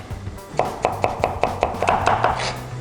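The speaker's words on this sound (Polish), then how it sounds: "Pokroję szalotkę w drobną kostkę." A knife dicing shallot on a cutting board, about a dozen crisp, evenly spaced chops close by, quickening slightly toward the end with no talking.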